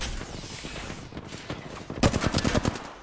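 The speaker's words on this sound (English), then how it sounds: "He's getting shot at by someone else." Automatic gunfire in the video game Apex Legends, rapid bursts of shots continuing throughout and growing louder and denser near the end, with busy game sounds underneath.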